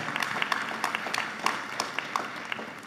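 Scattered applause from an audience at a high school senior awards ceremony, irregular claps at a moderate distance, fairly faint and thin rather than a full ovation.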